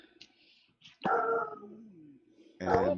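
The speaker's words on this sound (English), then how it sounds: "Dog." A dog barks and yips twice close by, short sharp calls with a whimpering tail, heard alongside quiet talk in a home setting.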